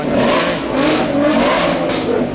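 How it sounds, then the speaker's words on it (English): A Lotus Exige and a Ford Mustang rev their engines against each other in a street rev-off, with several loud, close revs rising and falling one after another. "Sounds like a rev-off is happening."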